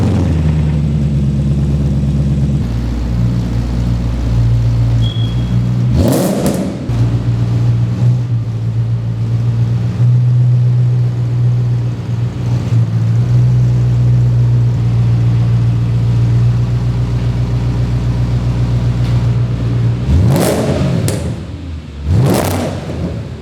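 An Audi S4 V8 idles and creeps forward into a garage, a steady low engine rumble close by with a couple of short throttle blips, no talking.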